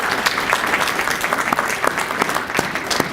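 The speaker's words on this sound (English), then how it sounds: "give the folks at Hockessin Fire Company a round of applause" An audience at a county budget town hall in Hockessin applauds the local fire company, a lively, continuous burst of clapping with distinct nearby hand slaps punctuating the wash.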